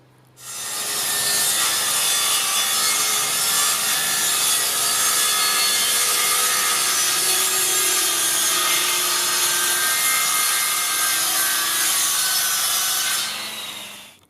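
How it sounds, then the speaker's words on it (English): A circular saw rips a wooden board along a straight-edge clamp, a loud continuous cutting whine that starts abruptly, holds steady for about twelve seconds and then stops. "That's just going to help me cut it in a straight line with the circular saw"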